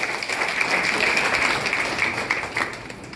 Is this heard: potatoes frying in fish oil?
no